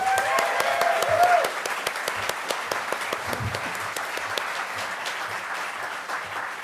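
A crowd applauds with dense, steady clapping that swells briefly then continues at a moderate level for several seconds.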